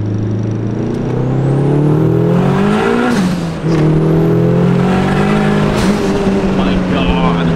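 A 500hp Honda Civic accelerates hard in third gear, its engine note climbing steadily from inside the cabin, loud and continuous, with a brief dip around a gear change before pulling again.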